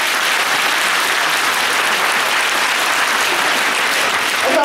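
A large crowd at a Polish election convention in Kraków claps steadily and loudly in sustained, dense applause throughout.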